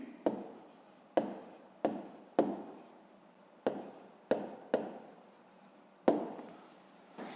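Pen writing on paper while working a 5th-grade math exercise, heard as a series of close, short scratchy strokes in bursts with small pauses, no talking.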